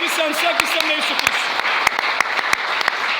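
A church congregation applauds and cheers in praise, with dense, continuous clapping and a few sharper claps, while raised voices ring out over it.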